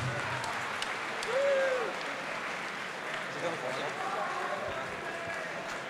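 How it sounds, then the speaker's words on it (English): Crowd at an MMA event applauding and cheering for the runner-up after a heel hook finish, a dense steady wash of clapping with a swell early on, heard under an announcer's voice. "And let's cheer for your runner-up, Kane Goldup."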